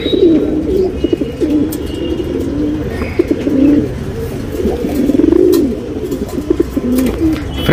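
Tournament pigeons cooing repeatedly in a loft, a close, steady run of soft throaty coos and burbles overlapping through the clip, with occasional faint chirps and wing rustles, no talking.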